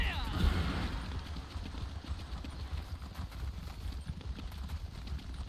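Horse hooves clip-clop steadily while riding through the landscape in The Elder Scrolls Online, a continuous galloping rhythm mixed with game ambience and a voice talking over it.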